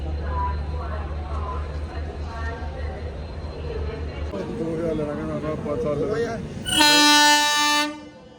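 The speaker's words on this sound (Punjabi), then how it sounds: "ਟ੍ਰੇਨ ਆ ਗਈ ਬਈ" A train pulls into Amritsar station amid a busy crowd, with steady rumble and chatter under people talking, then a loud sustained horn blast near the end.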